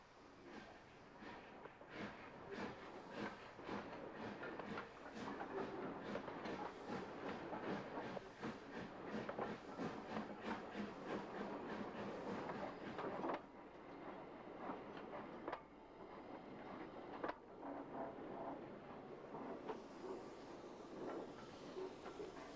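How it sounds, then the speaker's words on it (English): A 7mm O gauge model train runs along a model railway layout, a rhythmic clicking of wheels over rail joints rolling close by, quiet and steady with some lighter hiss. "As the 4F pulls out onto the head shunt, a further Great Western train passes non-stop."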